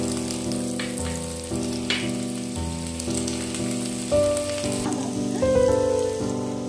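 Onion frying in a pan of oil for Hakka noodles, a loud, steady sizzle with a crackling hiss that swells briefly as the pieces are stirred, with no voices.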